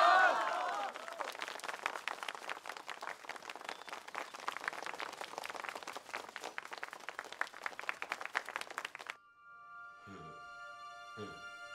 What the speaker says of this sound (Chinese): 为这位老板鼓掌